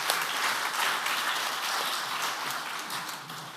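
A congregation at a church men's fellowship prayer meeting applauds steadily, a dense even wash of clapping that fades slightly toward the end.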